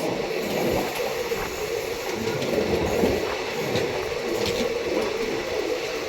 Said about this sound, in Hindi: Bandra terminal Haridwar express